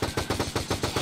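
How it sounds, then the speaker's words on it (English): Rapid automatic gunfire in the Roblox video game, a loud, steady burst of evenly spaced shots that runs for about a second with no pause. "Someone's firing at me."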